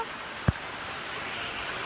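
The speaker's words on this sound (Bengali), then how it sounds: "এখন অনেক জোরে বৃষ্টি নেমেছে।" Heavy rain pours down in a constant, dense hiss, with a single soft thump early on and no voices.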